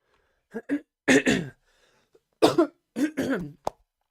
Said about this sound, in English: Apologies for the coughing, guys.